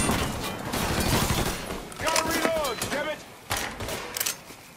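Gunfire erupts in a Mafia III shootout, with rapid bursts and sharp shots mixed with debris and impacts while shouting voices break in between.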